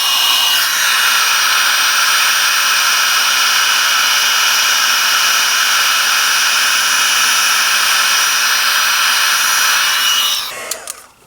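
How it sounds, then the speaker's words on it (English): Heat embossing gun blowing hot air for paper crafting, a loud continuous whooshing roar running steadily for about ten seconds before it cuts off. "Turn the heat tool on again."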